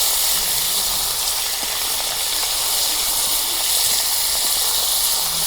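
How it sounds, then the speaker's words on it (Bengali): Fish frying in hot oil in a home kitchen, giving a steady, loud hiss and sizzle throughout with no pauses and no one talking. "মাছ ভাজা হয়ে গেল"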